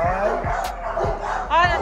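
XL American Bully dogs barking in short repeated yips and barks with some whimpering, close and loud, while people talk nearby.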